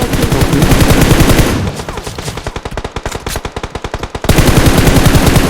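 Automatic gunfire in the mobile shooter PUBG Mobile: loud, continuous rapid bursts, with a denser stretch of fire, then a lighter run of spaced shots before heavy firing resumes.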